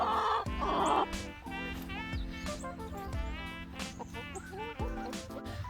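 Backyard chickens cluck and call in a winter garden just after being let out, several hens overlapping in bursts close by, with a rooster-like call and steady background hum.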